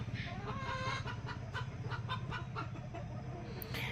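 Egg-laying hens clucking in a farm coop, a steady stream of overlapping clucks and murmurs at moderate distance, fairly faint, with no one talking.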